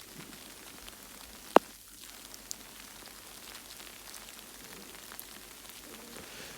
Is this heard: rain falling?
yes